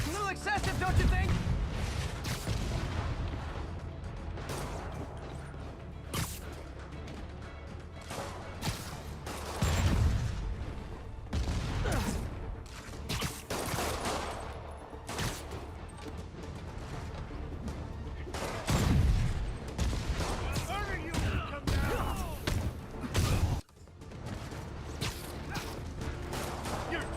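Rockets explode in the Spider-Man PS4 video game, heavy booming blasts and crashing debris recurring throughout amid music and action noise, with a voice talking over it.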